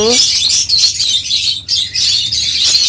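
A dense, nearly unbroken chorus of high-pitched chirping comes from pairs of lovebirds in breeding cages, loud and close, dipping only briefly before resuming.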